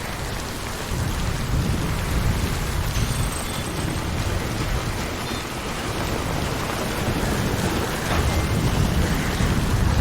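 Steady heavy rain with rumbling thunder in the video game Death Stranding, a dense continuous downpour with low rolling thunder beneath, filling the whole stretch without any talking.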